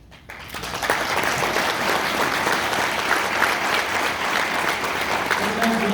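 An audience at the 2024 OPPA annual general meeting breaks into applause that starts after a brief quiet moment, then continues as a dense, steady crowd clapping that fills the room to the end.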